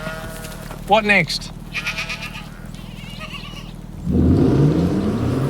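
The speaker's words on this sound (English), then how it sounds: "Really? Goats?" Goats bleat in a short wavering series up close, with people talking around them, followed by a rising engine rumble.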